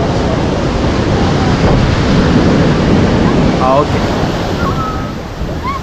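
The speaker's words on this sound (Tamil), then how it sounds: "வந்து கடல் தண்ணியில் இறங்குறாங்க." Sea waves wash steadily onto the shore with a continuous rushing surf and wind buffeting the microphone, and a brief voice speaks once near the end.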